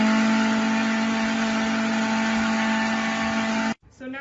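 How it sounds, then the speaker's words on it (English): A blender whirs loudly and steadily while blending almond milk, a continuous high-powered drone that cuts off abruptly near the end. "we're going to blend that again for just a couple of minutes"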